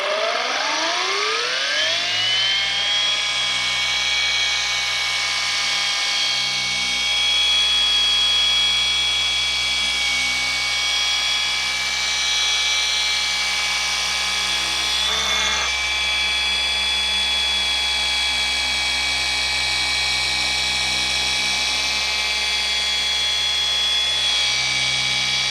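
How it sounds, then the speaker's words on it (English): A new air compressor spins up and runs loudly and continuously during polishing of a Porsche GT3 RS, its motor pitch rising at startup and then holding a steady droning hum with a brief knock midway. "Giving my new air compressor a workout."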